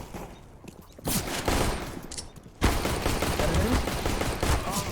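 Rapid gunfire in Counter-Strike: Global Offensive, bursts of close automatic shots in two loud stretches separated by a brief quieter gap, with faint game noise between.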